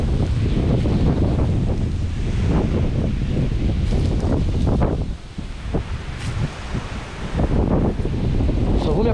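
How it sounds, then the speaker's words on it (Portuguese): Heavy outdoor wind blasts into the microphone near a town cemetery, a loud, steady low rumble with gusty swells and a brief lull midway, with no talking over it. "é muito vento mesmo"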